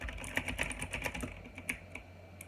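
Typing on a Qisan Magicforce 68 mechanical keyboard with clicky Outemu Blue switches, a close, quick, irregular run of sharp clacks and clicks at moderate volume, with no voices.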